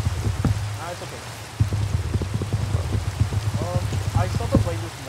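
Steady rain hisses across the whole stretch in Minecraft, carrying the Fossils and Archaeology mod, a constant wash of falling drops under people talking throughout.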